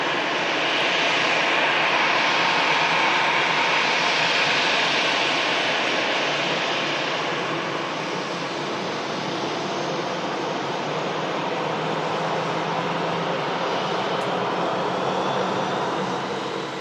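Steady broadband roar of a jet airliner's engines at Manchester Airport, sustained at a fairly close range for the whole stretch, swelling slightly early on then holding level, with no voices over it.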